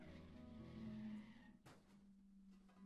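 A car skids in the video game To the Moon with a brief tire squeal and sliding rumble, then a sharp impact, set over a faint sustained tone.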